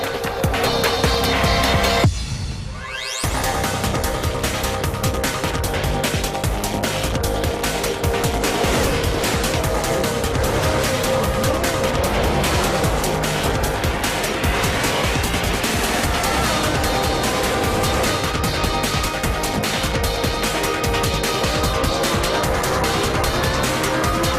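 Race cars roar through the video game Race Pro, engines revving in a dense, loud stream of high-pitched whine and gear changes, broken by a brief cut to near silence early on before the racing noise resumes and continues.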